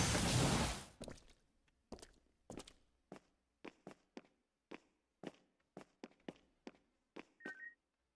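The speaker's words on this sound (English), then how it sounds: "I think I heard footsteps." Footsteps in the video game Punishing Gray Raven come one at a time as sharp, hollow thuds spaced about half a second apart. They are moderately close and sit alone against near silence after a brief burst of noise.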